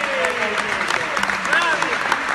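Audience applause for a group at a dance stage event, dense clapping mixed with cheering voices and shouts over it, lively and fairly loud.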